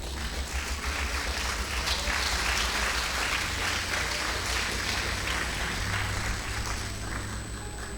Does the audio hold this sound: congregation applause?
yes